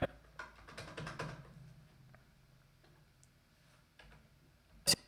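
Soft, close keystrokes on a computer keyboard come in a quick flurry of clicks, then a few sparser taps. One sharper click lands near the end, and no one speaks.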